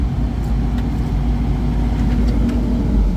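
Diesel engine of a Caterpillar CAT 308E2CR hydraulic excavator running at a steady idle, a deep, even rumble heard up close with no talk over it.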